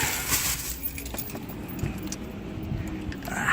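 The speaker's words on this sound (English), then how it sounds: "Pardon my keys there." Car keys jangle inside a parked car, giving light metallic clinks and rattles that come and go over a low cabin rumble.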